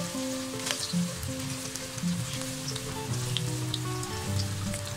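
Steady soft sizzle of potato bites frying in hot oil, a continuous fizzing crackle at moderate volume with a low musical tone running underneath.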